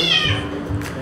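A stray cat at a cat village in Taiwan gives a single close, loud meow lasting about a second, a short drawn-out cry with a faint voice in the background.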